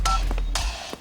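A telephone is dialed during a dubbed film scene, giving a short, loud burst of tones with a couple of separate presses, over a steady low hum and no talking.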